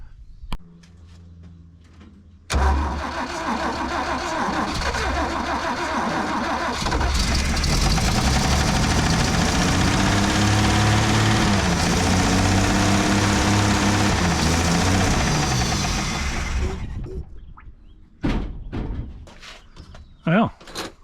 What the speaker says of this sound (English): I have to put a little gas in that carburetor,